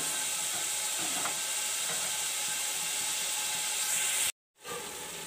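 Carrots and peas frying in a pan for vegetable pulao, a continuous bright sizzling hiss, close and steady, briefly cutting out before resuming.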